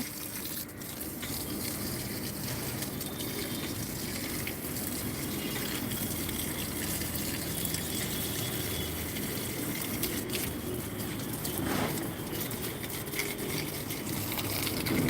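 Water gushes and splashes steadily onto plants and soil in a rooftop garden, like a hose or can pouring, fairly close and continuous with no talking.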